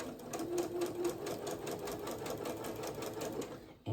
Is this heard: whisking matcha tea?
no